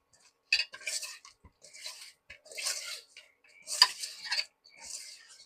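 Fish pieces are rubbed and mixed by hand with turmeric and chilli powder in a bowl, giving intermittent wet squelching and soft clinking bursts separated by short quiet gaps, close and fairly faint.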